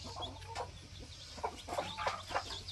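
A mother hen among her newly hatched chicks gives soft, repeated clucks close by, in short irregular bursts over a low steady hum.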